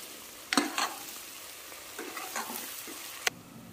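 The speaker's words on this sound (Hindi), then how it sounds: "अब प्याज जो है तेल छोड़ रहा है, प्याज भी भुना चुका है।" Onions frying in oil in a pan for dhaba-style chicken, with a few sharp stirring scrapes of a spoon over a faint, steady background sizzle and no talking.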